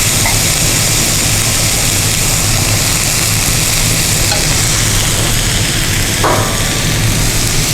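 Pre-cooked macaroni noodles being stirred and mixed for a baked casserole, a steady, dense, close-up scraping and squelching with no talking.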